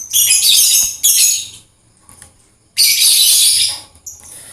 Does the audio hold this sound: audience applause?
no